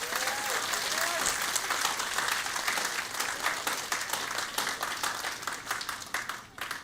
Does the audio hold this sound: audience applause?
yes